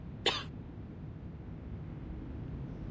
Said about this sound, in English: And now I cough and splutter just like it does.